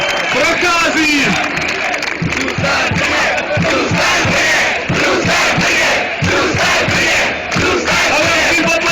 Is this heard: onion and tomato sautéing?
no